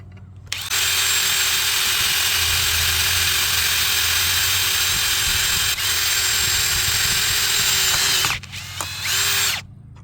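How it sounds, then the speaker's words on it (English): A power drill bores a hole for handmade model railway switch points. It whines loudly and continuously for about eight seconds, stops briefly, then gives a short final burst. "I'm going to drill a hole here"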